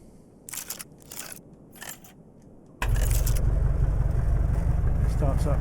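A bush plane engine in Deadstick Bush Pilot Simulator catches after a few clicks and rattles, then settles into a loud, steady droning roar that continues to the end.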